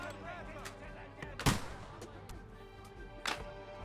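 Gunfire in the medieval video game Kingdom Come: Deliverance II, two heavy booming shots spaced apart with someone shouting between them.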